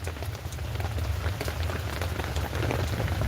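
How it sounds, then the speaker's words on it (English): Steady rain pattering on a surface in Alamance County, North Carolina, a dense, continuous wash of drops with a low rumble underneath, no voices. "It's raining."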